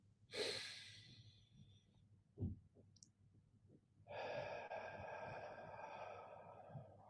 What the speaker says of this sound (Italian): E ora facciamo tre respiri insieme.